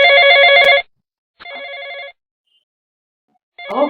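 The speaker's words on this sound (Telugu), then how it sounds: "ఫోన్ ఎవరో చూడు బాబు" A phone rings nearby with three separate electronic bursts of layered tones broken by silent gaps, the last burst rougher and fuller.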